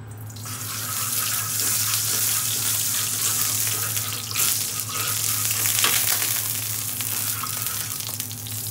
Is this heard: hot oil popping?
yes